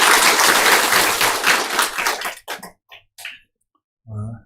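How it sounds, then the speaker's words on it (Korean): A church congregation gives loud, dense applause that holds for about two seconds, then breaks into a few scattered claps before fading out, followed by a short voice. "큰 박수로"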